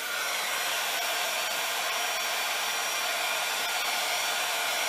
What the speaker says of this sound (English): I'm going to heat this one more time, just to make sure